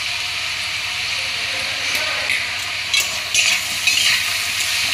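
Flat beans stirred with masala in a hot pan, a steady sizzle and hiss with scraping spoon strokes growing busier toward the end.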